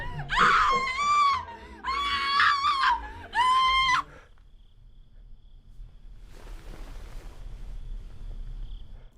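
A woman in a horror short film screams in three long, loud, shrill bursts, then falls abruptly silent, leaving a faint hush of room tone and a soft rustle.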